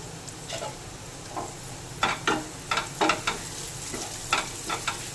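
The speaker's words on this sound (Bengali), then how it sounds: "সবজিগুলো হালকা ভাজা হয়ে গেছে" Vegetables for egg prawn chowmein sizzle in a hot pan over a constant frying hiss, while a utensil scrapes and stirs in repeated loud strokes near the microphone.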